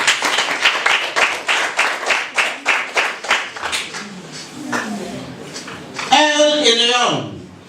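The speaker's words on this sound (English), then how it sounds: "Clap for them." An audience claps for quiz contestants in a steady burst of applause with rhythmic pulses, fading after a few seconds before a voice speaks near the end.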